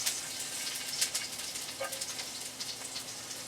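Onions frying in a hot new wok during its first seasoning: a steady, fairly quiet sizzling hiss with small crackles and no talking.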